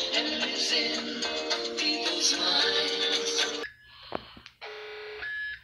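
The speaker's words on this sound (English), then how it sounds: "Why is an alarm sound really loud?" A loud, harsh electronic alarm blares continuously, then cuts off abruptly and returns in shorter, thinner beeping bursts.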